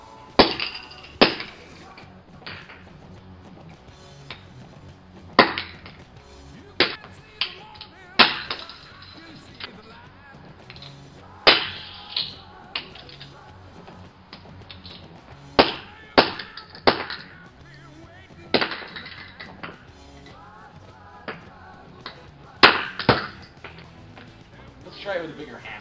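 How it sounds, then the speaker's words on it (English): Repeated sharp metallic strikes of a hammer on a combination lock, irregular blows spread throughout, with people talking in between. "I'm going to try breaking it using this hammer."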